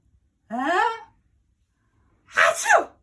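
A voice playfully imitates a sneeze: a rising drawn-in breath, a short pause, then a sharp, exaggerated burst, close and clear.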